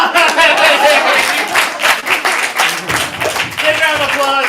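Audience clapping at a youth improv comedy showcase, a dense steady patter of applause running through the whole stretch with voices and chatter mixed in.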